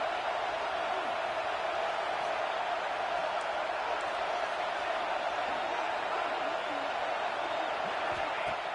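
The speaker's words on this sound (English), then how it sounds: "the crowd really making some noise now, trying to help out this defense to get this stop near the goal line" Crowd roaring near the goal line in a college football video game, a dense, steady wash of stadium noise at moderate level throughout without breaks.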